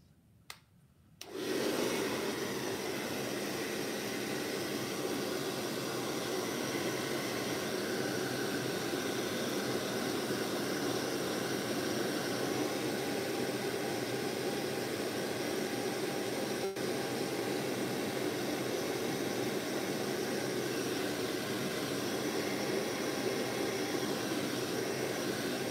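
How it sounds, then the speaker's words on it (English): A hairdryer blows steadily to dry a drawing, a loud continuous broadband whoosh that switches on after a short click and runs unbroken for the rest of the stretch, with no talking over it. "I'm gonna use the hairdryer to dry up the drawing."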